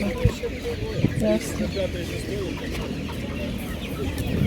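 Laying hens clucking and murmuring nearby in short, uneven bursts, with people talking in the background of a busy poultry market.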